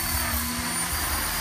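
An RC 500-size helicopter flies with a steady, loud whine and rotor roar that stays continuous and unbroken, with no voices.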